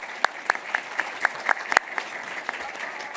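A sparse audience at a panel on alleviating poverty gives brief, thin applause, with a few individual claps sounding clearly and fairly evenly spaced over a quiet room.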